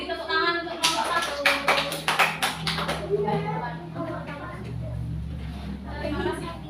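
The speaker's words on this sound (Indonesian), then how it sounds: "Ya, beri tepuk tangan untuk kelompok 1." Primary-school classmates break into clapping for a group's presentation, a lively burst of many hands that tapers into scattered claps while a teacher talks over it.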